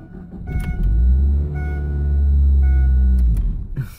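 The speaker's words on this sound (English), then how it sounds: "We turn the car on." A car engine turns over and starts, then idles with a steady, loud low rumble and a faint high whine, settling and revving slightly before fading at the end; no one speaks.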